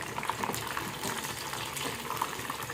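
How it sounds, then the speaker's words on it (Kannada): Chicken wings fry in oil in a small pan, giving a steady, dense bubbling sizzle that stays close and even from start to finish, with no voices. "ನಾನಿವತ್ತು ಸಣ್ಣ ಪಾತ್ರೆಯಲ್ಲಿ ಫ್ರೈ ಮಾಡ್ತಾ ಇದ್ದೇನೆ"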